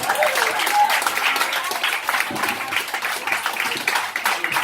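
A comedy-bar crowd at a stand-up night claps steadily and densely for a comedian, a close, loud round of applause that carries on unbroken throughout.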